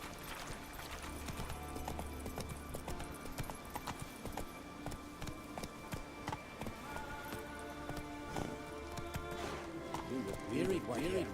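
Horse hooves clip-clop at a steady galloping rhythm in The Witcher 3 video game, with game music and a voice talking over the continuous hoofbeats.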